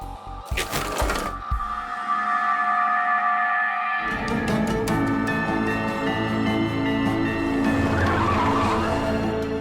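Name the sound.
car skidding to a stop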